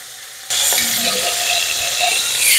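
A piece of pot roast meets a hot pan and starts searing with a sudden, steady sizzle that holds loud and close throughout, no talking over it.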